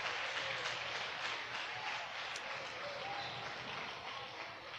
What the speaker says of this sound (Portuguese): Aplauda com alegria, mais forte.